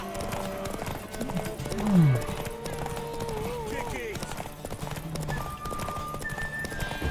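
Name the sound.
horse hooves in video game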